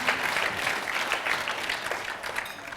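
Audience applause at a talk on women in IT, a dense patter of many hands clapping steadily, moderately loud and fading slightly toward the end.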